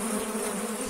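Honeybees in an overwintering hive drone with a loud, steady, close buzzing hum and no other sounds.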